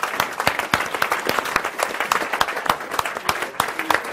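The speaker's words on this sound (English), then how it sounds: "Big round of applause." An audience claps steadily through a live spiritual talk event, a dense, lively round of applause from a seated crowd, heard close and fairly loud with no voices over it.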